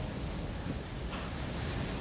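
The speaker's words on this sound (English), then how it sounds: "Very windy." Strong wind roars in a dense, rushing wash of noise, buffeting steadily with no voices.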